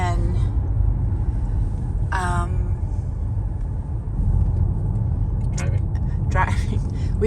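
A rental car drives on English country roads in the Cotswolds, its steady low road rumble and engine drone filling the cabin while people talk inside.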